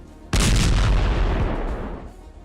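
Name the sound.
explosion from FPV drone strike on a vehicle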